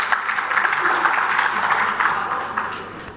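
An audience at a panel on hydraulic and industrial infrastructure applauds a water resources expert with steady, dense clapping that holds for the whole stretch and tapers slightly at the end, with a faint voice underneath.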